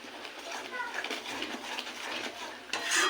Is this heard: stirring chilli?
yes